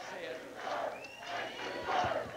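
A 1992 election-night crowd in Houston cheering for the president, a roaring mass of shouts and whoops that swells and dips, with one whistle rising above the noise.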